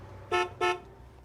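Two short, loud honks from a car horn, quickly one after the other, close by over a low hum of background noise.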